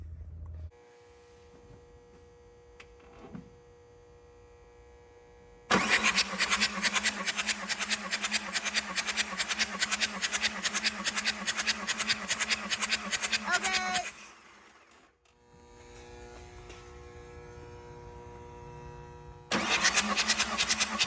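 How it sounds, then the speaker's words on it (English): A VW ALH TDI diesel under diagnosis for runaway is cranked over during a compression test. Two loud stretches of fast, rhythmic cranking are heard, separated by a quieter mechanical hum. "I'm just gonna start going down the line here and just cranking it over and seeing what kind of numbers we get."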